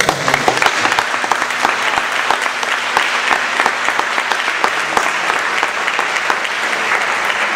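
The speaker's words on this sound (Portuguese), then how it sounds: "Você que vê, por favor, aplauda o Senhor." Congregation applauding during a Portuguese-language church service, dense, steady clapping at full volume that continues evenly for several seconds.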